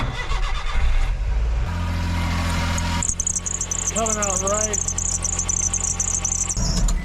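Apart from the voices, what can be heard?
K-truck engine starting and running badly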